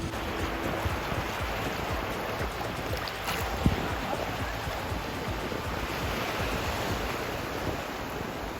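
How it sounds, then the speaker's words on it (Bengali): Sea waves at St. Martin's Island wash in a steady, continuous rush of surf, fairly loud and close, with wind noise throughout and one brief knock midway. "ঢেউগুলো দেখুন চমৎকার এই ঢেউগুলো কিন্তু বেশ আকর্ষণ করে"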